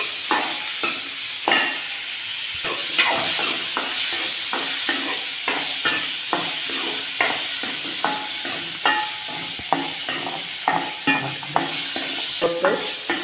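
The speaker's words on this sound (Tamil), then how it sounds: "நல்லா வதக்கிக்கணும், கருவாட்டை நல்லா வதக்கணும்." Dried fish (karuvadu) is stir-fried in a pan: a continuous sizzle under rapid, repeated scraping strokes of a spatula against the metal, loud and close, with no voices.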